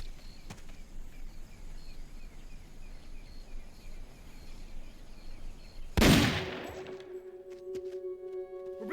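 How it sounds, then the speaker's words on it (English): Gunfire in Metal Gear Solid: Peace Walker on Xbox, a single sharp loud shot cracking out near the end over a quiet ambient bed of insect-like chirps, followed by a ringing tonal game sound. "We're being shot at! Going to alert status!"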